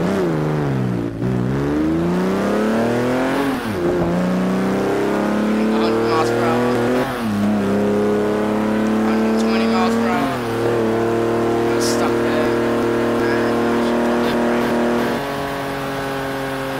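Simulated Austin Healey 3000 MkIII sports car in Garry's Mod revving and accelerating hard through gear changes on a lap, engine pitch repeatedly climbing and dropping, loud and close throughout.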